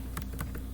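Several quick keystrokes on a computer keyboard, a short burst of clicks close up over a steady low hum, with no voices.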